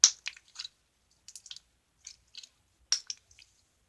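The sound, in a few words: slime being squished, making big air bubbles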